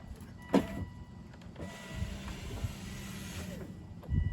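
Electric power window in a Volvo S80, S60 or XC90 running after a window regulator repair, a faint, muffled motor hum sliding for a couple of seconds inside the car amid clicks and small knocks.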